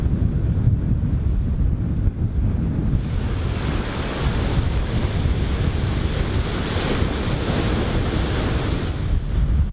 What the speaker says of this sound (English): Here, waves meet the Humber estuary and lose energy